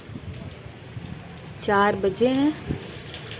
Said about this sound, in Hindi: और बारिश भी आ गई हमारे यहाँ